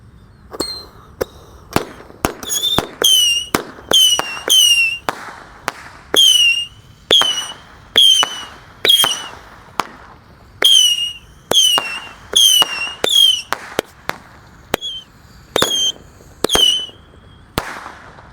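Fireworks set off in a hole in the ground, a mix of missiles, whistling rockets, roman candles and cone fountains, fire a rapid string of sharp bangs, many followed by rising shrill whistles, across about eighteen seconds.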